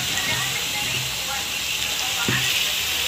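Pakoras made from water chestnut flour and raw potato sizzle in hot oil with a continuous hiss, while someone talks over the frying.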